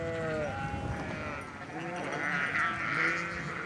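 Several ewes bleat over one another in a closed pen in northern France, a dense, loud, continuous chorus of overlapping calls.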